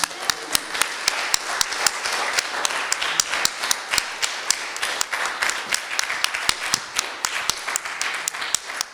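A church congregation claps loudly and in unison at a Thanksgiving service, a fast, steady rhythm of sharp hand claps filling the room throughout.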